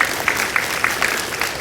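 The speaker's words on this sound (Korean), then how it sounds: "박수 한번 주세요" A civic forum audience in Gwangju gives a short burst of applause, moderately loud and fairly dense, with a few sharper individual claps standing out.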